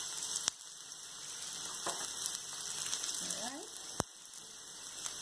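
Onion, scallion and garlic frying in beef grease over a low flame for Jamaican beef patties, a steady soft sizzle with a few sharp clicks and a brief faint voice-like sound.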